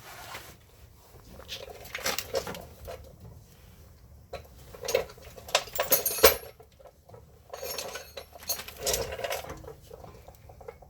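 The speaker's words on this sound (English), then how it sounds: "I give it a few pumps, jack it up just a little bit" A car jack is pumped to lift a Honda Pilot, giving bursts of metallic clicking and ratcheting strokes in uneven clusters, close and moderately loud, separated by quieter pauses.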